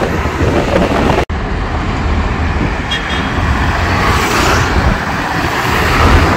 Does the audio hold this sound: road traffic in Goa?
yes